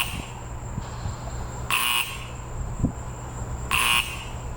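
Warning alarm on a CSX railroad drawbridge, the Little Manatee span, sounding two loud buzzing blasts about two seconds apart over a low steady hum of machinery.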